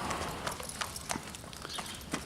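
A racehorse's hooves clip-clop in a steady, unhurried walking rhythm at a thoroughbred stable, mid-distance over a constant background hiss with no clear talk.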